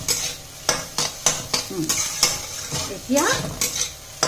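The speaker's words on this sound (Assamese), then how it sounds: "এইখিনি আৰু অলপ সময় ভাজিব লাগিব, বুটৰ আৰু কেঁচা ভাৱটো যাওক।" Raw chickpeas and green chilies frying in a pan, a soft sizzle under repeated scraping stir strokes of a spatula, with a brief spoken word partway through.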